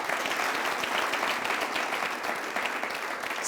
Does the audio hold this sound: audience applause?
yes